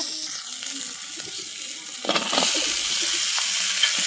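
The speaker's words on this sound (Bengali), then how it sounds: "আর এখন ডাঁটাগুলো দিয়ে একটু কষাই নিব" Vegetable stems hit hot oil with ginger, garlic, cumin, turmeric and salt in a pan, a faint clatter giving way to a louder, steady frying hiss up close, with no talk.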